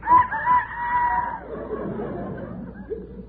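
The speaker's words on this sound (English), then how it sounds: "No, that's the rooster" A rooster crows once in a long, drawn-out call during an old radio comedy scene. It is followed by murmuring and laughter from a studio audience.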